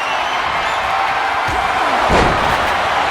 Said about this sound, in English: Slammed head first by Heather Ray